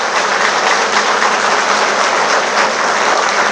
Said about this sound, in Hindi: तो दोनों का थोड़ा ऊपर हाथ करके अच्छे से ताली बजाएंगे